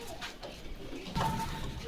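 Pigeons at a pigeon market in Bogura, a soft throaty coo rising near the middle of the brief moment over a low murmur of background noise.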